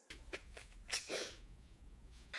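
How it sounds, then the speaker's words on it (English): A single sneeze into the elbow, with a sharp burst and a quick breathy follow-through, close and fairly soft, preceded by short inhaled breaths. "Elbow sneeze."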